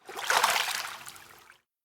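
A brief rush of splashing water, loud at first and tapering off over about a second and a half before cutting to silence.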